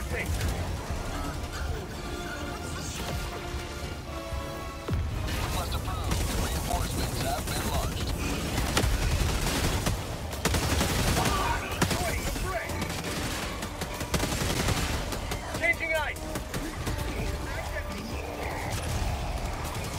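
Gunfire in a shooter video game set against a Metal Gear–style automaton enemy, with rapid bursts and mechanical clatter recurring throughout. People talk over the shooting.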